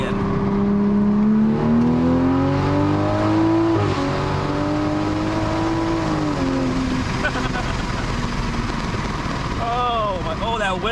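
A 2020 Toyota GR Supra pulls hard at full throttle, engine note rising steadily through the gears with brief dips at shifts, loud from inside the cabin amid wind noise, with occasional talk.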